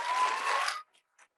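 Public applause at a school board meeting, a dense steady wash of clapping that holds loud for under a second, then cuts off abruptly, leaving only a couple of faint scattered claps.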